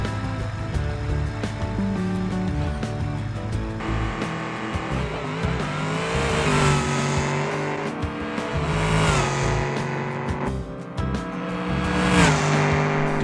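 A pickup truck in the BeamNG driving game roars down a drag strip, its engine climbing through repeated rising revs with gear changes, loud and continuous with no talk.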